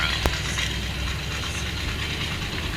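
A car engine idles steadily after a valve cover replacement, a close, even mechanical hum with a faint ticking texture and a brief click near the start, with no voices.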